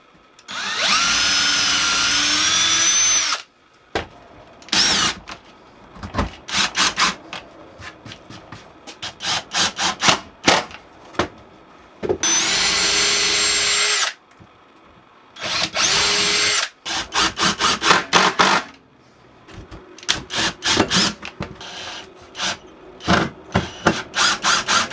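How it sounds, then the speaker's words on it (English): A power drill whines in several bursts, with stretches of scraping, sawing and tool handling on wood between them, close and loud. "make sure you pre-drill the wood to prevent it splitting"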